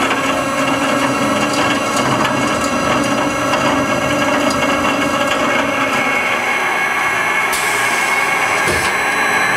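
A Scotchman HFA automatic saw cuts through threaded rod, a steady dense mechanical grind and whine running continuously and loud, with a brighter shift in tone near the end of the cut.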